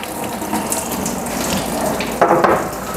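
Water and antifreeze pour steadily from a cut radiator hose on a REO Gold Comet ramp truck, a continuous close splashing stream that briefly surges louder.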